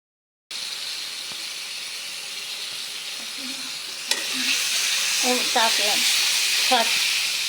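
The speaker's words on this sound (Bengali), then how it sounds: "এই যে আমার মশলা দেখুন কষানো হচ্ছে কি সুন্দর করে" Spice masala sautéing in a pan after the water cooks off, a loud continuous sizzle and hiss that swells partway through, with stirring scrapes and a voice speaking over it.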